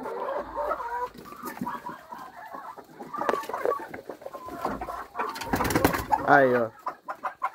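Chickens cluck and squawk close by as they peck at scattered feed, with a rooster-like call near the end; a person talks briefly over them.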